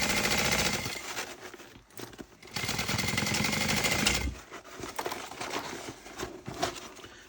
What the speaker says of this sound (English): We'll back stitch on the webbing.